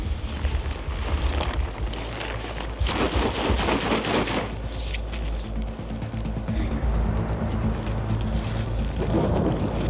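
Deep rolling thunder of an approaching storm near a lakeside campsite in Värmland, Sweden, rumbling loudly in long swells with rain and wind noise throughout.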